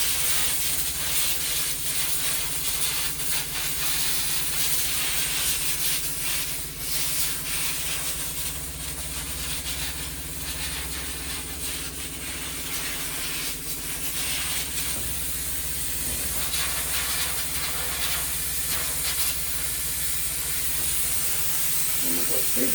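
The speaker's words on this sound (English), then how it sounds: "So we're just going to give it one more steam." A yarn steamer sends a steady, continuous hiss of steam over a skein of chaos yarn to set its twist, a close, unbroken rushing sound with faint low hum underneath.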